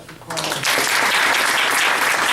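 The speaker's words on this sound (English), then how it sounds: "another nice round of applause for" Applause from attendees at a Runnemede Board of Education meeting honouring Carly, starting after a brief quiet moment and swelling into steady, dense clapping from a roomful of people.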